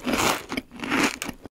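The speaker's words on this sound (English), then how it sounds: "The wings are a bit crunchy" Biting into crunchy chicken wings, two close, loud crunching bites, each followed by crackly chewing, up close with no talk.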